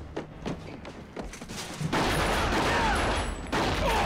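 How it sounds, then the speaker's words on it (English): Police firing guns in a movie gunfight, a loud barrage of overlapping gunshots with booming impacts that grow into a dense, sustained roar of fire. "And they're shooting the whole place out. They really are. This is a gunfight."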